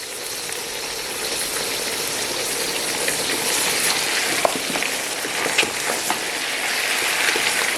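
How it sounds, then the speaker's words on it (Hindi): Meat sizzles loudly in a pan with onions and ginger-garlic paste for nihari, a dense continuous frying hiss with scattered crackles and stirring scrapes, close and without talk. "अब हम इसको अच्छी तरीके से इन प्याज़ों के साथ भूनेंगे"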